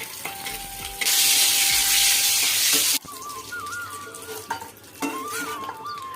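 Dried red chillies fry in oil in a wok, a loud steady sizzle that bursts in at one second and runs for about two seconds before dropping to a quieter crackle, with a thin whistle-like tone wavering above.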